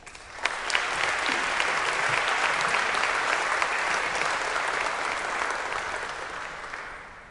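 Audience applause at an MBA case competition awards dinner, welcoming a speaker: a sustained, dense burst of clapping from a sizeable crowd that swells quickly, holds steady and then slowly fades.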